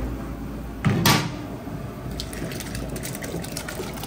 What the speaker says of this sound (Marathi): राईस टाकून घेऊया